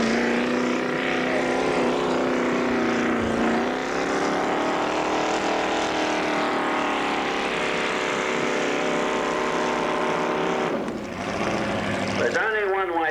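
A pulling tractor at the 1986 Colbinabbin tractor pull roars loud and steady down the track, its engine note climbing gradually and holding near for the whole run, with a brief dip before surging again at the end.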